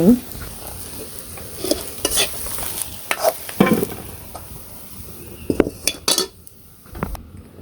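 Food frying in a pan during a Garshi Sankranti cooking session, with a spoon scraping and clinking against the metal pan in irregular bursts over a steady low sizzle, close and fairly loud.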